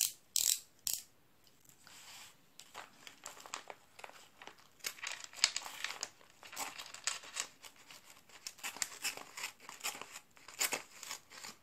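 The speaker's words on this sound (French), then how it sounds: "un petit cutter." A small utility knife cuts open a well-packed parcel of Stampin' Up paper mail, giving repeated scratchy slicing and crinkling strokes with clicks and rustling packaging, close and fairly loud, with no talk.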